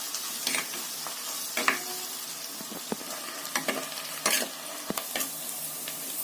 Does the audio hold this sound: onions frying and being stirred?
yes